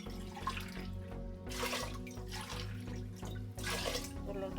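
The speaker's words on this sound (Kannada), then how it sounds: "ನೀರು ಹಾಕಿ ಚೆನ್ನಾಗಿ ಇದರಲ್ಲಿ 3 ಲೋಟ ನೀರು ಹಾಕೋಣ." Water is poured into a pot of washed rice and lentils being prepared for bisi bele bath, coming as a couple of splashing bursts over steady background music.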